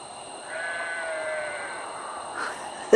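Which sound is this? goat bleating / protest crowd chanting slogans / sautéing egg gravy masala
goat bleating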